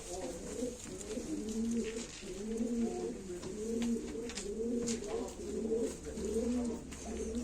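Pigeons coo repeatedly in a steady, rhythmic series of low, rolling calls at an auction of Turkish play pigeons, fairly close and continuous, with a faint hiss in the background.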